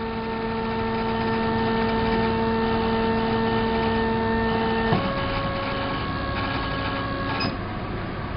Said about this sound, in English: At 50 we will stop the pump.